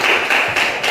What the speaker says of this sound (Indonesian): Tepuk tangan ya buat kelompoknya,